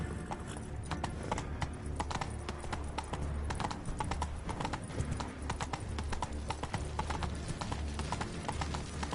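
Roach, a horse in The Witcher 3, trots with a brisk, even clip-clop of hooves, near and prominent throughout over a soft ambient bed.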